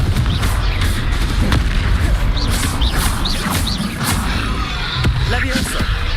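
Fire-blast spell explosions from Hogwarts Legacy crack through a dense, booming game soundscape, with bursts and whooshing sparks recurring over several seconds amid constant low rumble and a talking voice.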